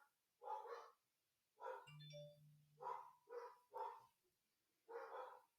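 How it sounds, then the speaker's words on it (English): Dogs bark indoors in several separate bursts, some doubled, with short quiet gaps between them, while a doorbell-like tone sounds once in the middle. "We will wait for the dogs to quit barking."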